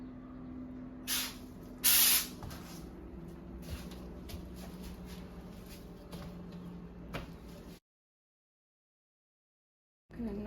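Wall texture compound is sprayed onto a newly built dividing wall in two short, sharp hissing bursts over a low, steady background hum, then silence before the noise briefly resumes.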